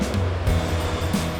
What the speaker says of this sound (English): Beautiful white sand, waves crashing in.